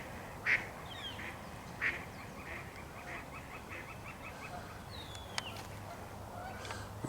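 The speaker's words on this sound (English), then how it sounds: "We're disturbing the mallards coming this way." A bunched group of mallard ducks beside a beaver lodge in a wetland gives a few short, distant honking quacks over steady outdoor background noise, with two louder calls early on and fainter ones after.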